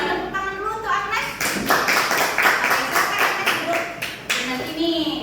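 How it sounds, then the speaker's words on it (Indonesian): Classroom applause for a student, a burst of clapping hands that rises around the second mark and carries on steadily for several seconds, close and fairly loud, with children's voices mixed in. "Kasih tepuk tangan dulu untuk Agnes."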